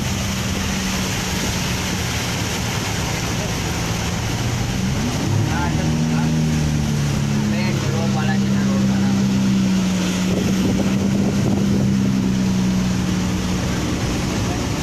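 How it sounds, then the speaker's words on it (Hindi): Floodwater gushes and churns on a flooded Tariq Road in Karachi after heavy rain, a steady broad rushing wash under a low engine drone, with stalled cars nearby and a voice talking over it. "ये देखिए किस शिद्दत से पानी बाहर आ रहा है।"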